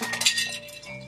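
A breaking-glass and clinking crash from the Operation board game plays as a phone smash sound effect, a sharp bright burst that fades within about a second.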